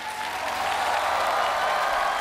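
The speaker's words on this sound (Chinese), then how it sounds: "俾啲掌声佢先啦" Audience applause for a contestant's song on a TV singing competition stage, a steady dense wash of clapping held at an even level throughout, with no talk over it.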